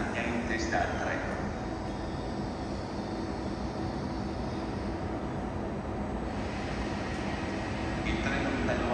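A train moves through Roma Termini railway station in Rome, a continuous broad rumble under the busy hall's wash of noise, with a public-address voice faintly present.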